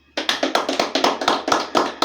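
Rhythmic clapping at a steady, brisk beat from an audience on a Brazilian interview show, honoring the guest, fairly close and clear, with about nine sharp claps and no talking over it.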